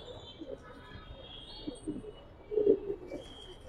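A Giribaz pigeon gives low, soft coos that swell briefly near the end, close but quiet, with faint speech in the background.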